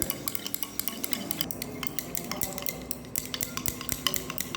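Vanishing cream mixture of combined water and oil phases being stirred toward solidification, a dense continuous scraping and clinking of a utensil against a vessel, close and steady with rapid irregular ticks, no voices.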